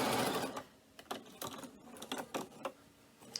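Short bursts of a sewing machine stitching over zipper teeth on a cork fabric messenger bag, in quick stops and starts with brief pauses between, close by and fairly quiet.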